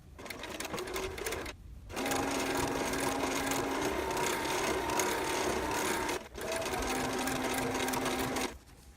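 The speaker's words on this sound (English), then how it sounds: "I will also be folding the hang tag over, if I can grab it, and sewing 1/4 inch seam allowance on that also." A sewing machine runs a 1/4 inch seam over a folded hang tag on a grocery bag storage project, a steady close whirring of rapid stitches in three bursts separated by brief pauses.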